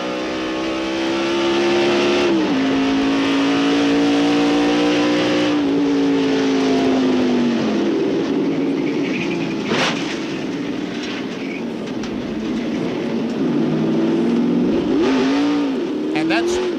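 In-car audio from a 1995 NASCAR stock car at Darlington Raceway: a loud, continuous engine drone that rises and falls as the car accelerates and lifts, with talk over it.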